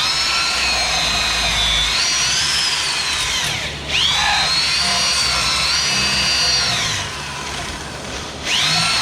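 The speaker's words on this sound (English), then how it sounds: "Then I move the drill around to try and chew out some of the rubber." A power drill whines loudly as it grinds out a rubber control-arm bushing on a 1995 Chevy Tahoe, its pitch rising and dipping under load, with two brief pauses between bursts.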